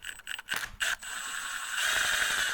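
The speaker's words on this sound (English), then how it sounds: "Don't use an impact driver like I am." An impact driver loosening bolts on a 1997 EZGO TXT gas golf cart, a few short rattling bursts followed by a steady mechanical whirr, close by.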